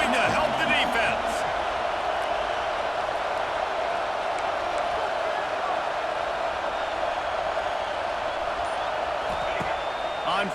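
Steady roar of a stadium crowd in a college football video game, a dense unbroken wash of cheering held at an even level through the whole stretch, with faint scattered thuds near the start.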